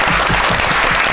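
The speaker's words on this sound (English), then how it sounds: "applause" Dense applause from an audience filling a room for the stage crew, steady and loud throughout with no speech over it.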